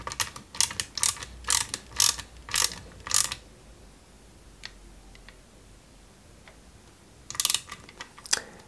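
Small screws are driven by hand into the sides of a Lancia 037 scale model kit, producing bursts of quick ratcheting clicks, a pause with faint ticks, then another short clicking run, close and alone.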